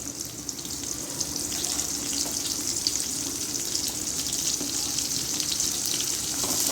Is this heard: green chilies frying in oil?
yes